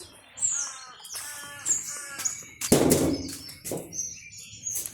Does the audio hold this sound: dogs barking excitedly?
no